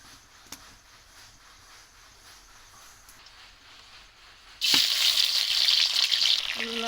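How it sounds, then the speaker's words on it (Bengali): Shrimp and betel-leaf greens hit a hot pan with a sudden loud sizzle after a quiet stretch of faint kitchen noise, the bright frying hiss then continuing steadily up close. "চিংড়ি মাছ দিয়ে পান পাতা শাক রান্না করব"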